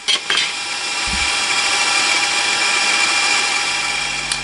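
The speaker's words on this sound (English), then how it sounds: "Right, I've cut it out with a bandsaw." Bandsaw cutting recycled pallet wood for a stick-style tenor ukulele body: a couple of brief knocks, then a continuous loud, bright whirring cut that runs unbroken to the end.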